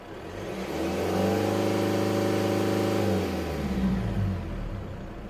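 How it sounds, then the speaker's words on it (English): A Mercedes C220 CDI diesel showing fault P2454 and running in limp mode revs up from idle as the accelerator is pressed. It holds a steady, humming rise close by before the revs fall back down. "So when I press my accelerator,"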